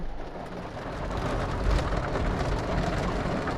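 Steady rain falls around a roadside tow job involving a G-Wagon and a trailer dolly, a dense even hiss with low rumbling underneath, continuous and fairly loud for the whole stretch with no voices.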